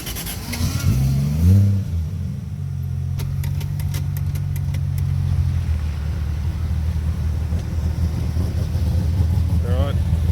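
A sleeper ute's engine loaded up on the brake during a boost test, with a steady loud rumbling drone and a swell in revs, close and continuous. A voice is audible briefly near the start.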